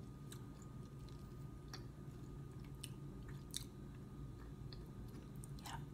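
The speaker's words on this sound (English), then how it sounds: "You definitely want to chew it so you can crunch into the hazelnuts" Quiet close-up chewing of Finnish candy with hazelnuts and currants, soft wet mouth sounds with scattered small crunches and clicks over a steady low hum.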